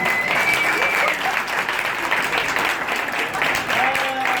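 An audience at a glitter cabaret show applauds loudly for a performer, with dense clapping throughout, scattered shouts and whistles, and voices calling out over it.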